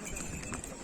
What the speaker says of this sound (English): You can see we have hired horses.